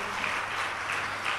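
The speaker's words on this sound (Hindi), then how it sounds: "आप सब ताली बजा करके" Audience applause in an ashram gathering in Rishikesh, steady dense clapping from a crowd filling the whole short stretch, loud and continuous with no voices over it.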